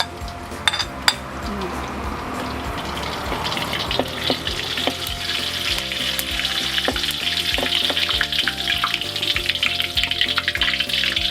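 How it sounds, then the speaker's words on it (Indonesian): Turmeric frying in a wok gives a steady, loud sizzle, with occasional clinks of a utensil against the pan. "Ini digoreng sedikit supaya jangan amis."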